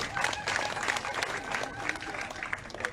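A crowd at a political gathering in Niakara, Côte d'Ivoire gives steady, fairly distant applause with scattered sharp claps standing out, and a few voices and some murmur mix in.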